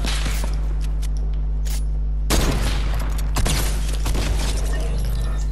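Sniper gunfire in the game Fortnite, with two heavy loud shots ringing out a second apart over a constant low game hum and a few faint mechanical clicks.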